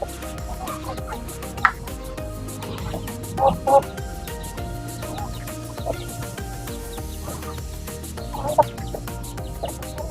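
Broodcock roosters in a backyard pen giving scattered clucks and short calls, several bursts over steady background noise, fairly near and moderately loud.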